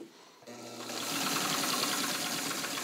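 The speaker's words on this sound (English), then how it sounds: "I'm going to sew a little slower now. I've got six layers of heavy denim here." A restored Singer 66 sewing machine, modified for extra heavy sewing, stitches through six layers of heavy denim, starting from quiet and settling into a loud, steady, close-up mechanical whir with a quick repetitive clatter.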